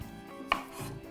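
A knife slices zucchini very thinly, giving two crisp cuts: a sharp one midway and another at the very end, over a quiet room with no talking.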